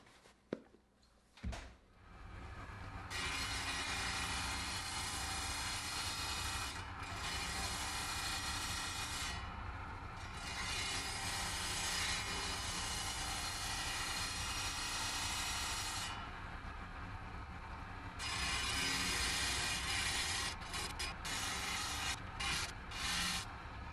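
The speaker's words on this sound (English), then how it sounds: "Go slower, because that's the place where it's going to jump ahead and make a little gouge into your rock." A saw blade grinds steadily through a Yooperlite rock, a loud continuous rasping cut that holds for about twenty seconds after a brief sharp start, with small dips where the blade eases.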